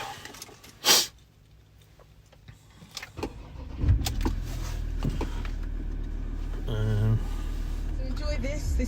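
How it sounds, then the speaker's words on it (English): A 2018 Ford Ranger 3.2 TDCi Wildtrak automatic is started from inside the cab. A sharp click comes first, then the engine cranks and catches into a steady, close diesel idle that swells briefly near the end. "Let's just start it up."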